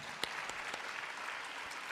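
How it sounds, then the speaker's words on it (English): Soft, steady applause from an audience at an Arangetram dance debut, with a few sharper claps standing out; fairly faint and distant. "So let's give another big round of applause."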